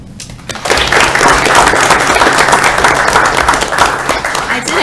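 An audience bursts into applause after a brief quiet start, sustained dense clapping from a crowd that carries on loudly to the end.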